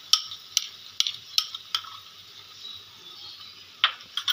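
Beaten yogurt stirred into fried spice masala for a crab curry, with a spoon scraping and clicking against the pan in quick irregular strokes over a soft sizzle.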